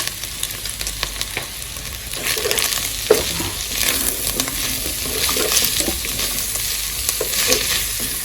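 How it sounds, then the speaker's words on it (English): Vegetables for fried rice sizzle and crackle steadily in a hot pan, briefly fried, with occasional scraping as they're stirred and tossed; continuous, close and moderately loud. "I don't want my vegetables to be soggy, so I'm not going to be frying it for that long"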